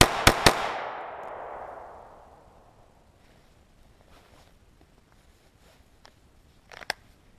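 Handgun shots fired in a timed draw from concealment: two sharp, loud reports in quick succession open with a long ringing tail, followed several seconds later by a single fainter crack.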